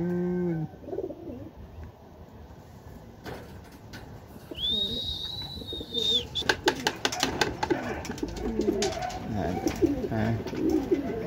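Racing pigeons coo softly at a loft as birds return from a 211 km derby race, with people talking nearby, a brief whistle-like tone and scattered clattering taps.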